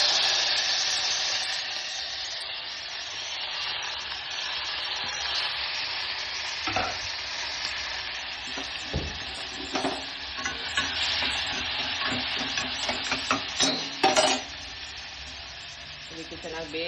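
Tomatoes dropped into a pan of cooked garlic sizzle and fry steadily while a utensil stirs them, sending repeated scraping clatters over the continuous hiss, close and fairly loud, with no talking.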